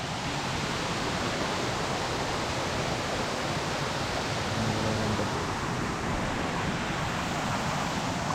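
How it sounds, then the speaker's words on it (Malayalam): Melaramthattu waterfall pours in a steady, dense rushing hiss heard close by, unbroken and even throughout with no voices over it. "ഇത് വെള്ളച്ചാട്ടാ?"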